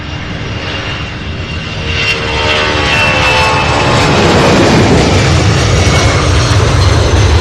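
A Boeing 747 jet turns on the ground at SDF airport at night, its engines roaring loud and close in a broad, steady wash that swells slightly louder as it moves.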